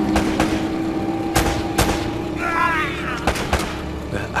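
Gunfire from the video game Uncharted: Drake's Fortune, a rapid series of sharp shots spread through a noisy battle scene with a steady hum underneath and brief chirpy effects midway.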